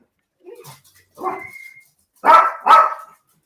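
Dog barking indoors, a few soft yips and a whimper followed by two loud close barks, no talk over them.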